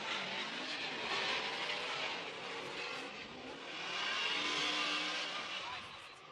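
Formula Drift cars race at Wall, New Jersey, with tires smoking, their engines swelling and fading in a broad roar as they pass, while a commentator talks over the noise.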